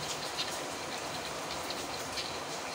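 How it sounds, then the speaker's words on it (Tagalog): Rain falls steadily in Cavite during a low-pressure storm, a dense, even hiss of drops landing on surfaces nearby with no voices over it. "Nandito na yung ulan sa Cavite, oh."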